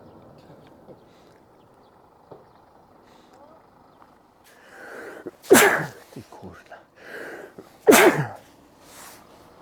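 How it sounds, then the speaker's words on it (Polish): Two loud, close sneezes burst out a couple of seconds apart on an autumn morning, each a sharp explosive blast, with quiet breathing and murmured talk around them. "Poranny, jesienny kich"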